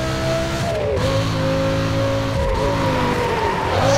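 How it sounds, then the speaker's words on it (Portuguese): A car engine roars continuously in Need For Speed: Most Wanted, holding a loud, steady high-speed drone with brief pitch dips as gears change, close and alone. "o ronco do motor da bicha"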